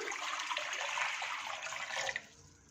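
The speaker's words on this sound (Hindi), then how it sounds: "एक पैन में 5 कप पानी डाल देंगे।" Water pours steadily into a pan for about two seconds, a close, splashing rush that stops abruptly.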